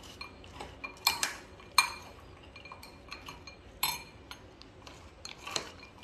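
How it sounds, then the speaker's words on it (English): A no-cook dish with lemon juice being mixed by spoon in a bowl, giving repeated clinks and scrapes of metal on dishware at an uneven pace, close and fairly quiet, with no talk. "then you have to mix this well"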